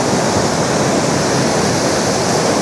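Bunga Falls thunders with a strong, heavy flow, a dense continuous roar of falling water close by with no pauses.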